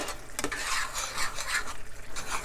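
Ground turkey and olive oil being stirred in a pan, with continuous scraping and rubbing of a utensil against the pan and a soft sizzle underneath, close and moderately loud.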